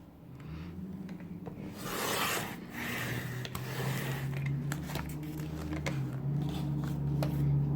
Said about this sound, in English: We'll trim that part off completely.